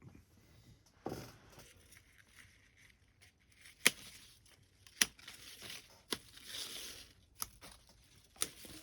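Pruning snips cutting back branches on a mulberry bonsai tree: a handful of crisp, sharp clicks spaced roughly a second apart, quiet and close against a faint rustle of foliage.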